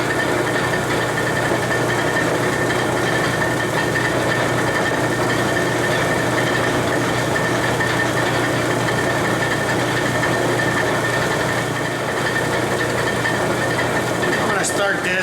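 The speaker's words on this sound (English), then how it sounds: "is drilling the hole to accommodate the shaft" A center bit drills a hole for a shaft in a one-inch piece for a miniature tap holder, giving a steady, loud motor whir that runs unbroken for the whole stretch.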